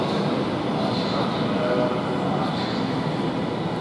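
An Avanti West Coast Class 390 electric train departs Carlisle for Edinburgh Waverley, a loud, continuous rumbling roar with steady wheel and traction noise close by throughout.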